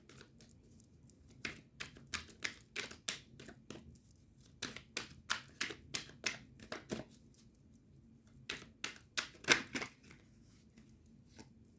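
Tarot cards are shuffled by hand in a quiet room, producing soft, quick riffling and tapping bursts in irregular runs with brief pauses between them, close and faint, with no talking.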